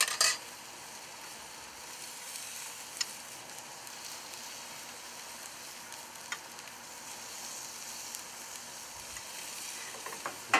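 Pineapple caramelizing in a hot pan, a steady close sizzle running throughout with a few faint clicks of utensils and no talking.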